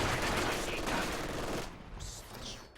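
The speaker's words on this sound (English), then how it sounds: "Sniper now sniping away at this garrison, of course." Rapid gunfire in a strategy video game, a dense burst of shots that thins out after a couple of seconds, with a few separate reports trailing after.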